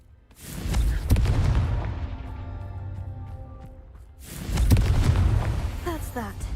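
The Confringo fire spell goes off in a video game, producing two heavy booming explosions a few seconds apart, each a loud blast followed by a rumbling, fading tail.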